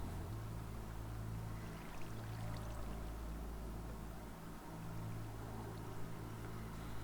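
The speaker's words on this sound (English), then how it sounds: "I still hear the water flowing" Water flows steadily in a continuous, moderately faint rush with a low rumbling hum underneath, holding an even level throughout with only a brief dip in the middle.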